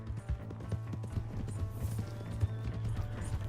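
Rapid rhythmic clip-clop of a galloping horse in the video game Red Dead Redemption 2, steady and close, over a low constant hum.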